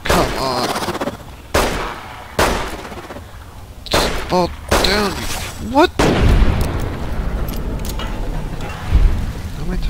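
Bursts of gunfire from the video game Fallout: New Vegas, with several sharp loud shots and rapid volleys mixed with game sound effects and other noises, and a voice talking over parts of it.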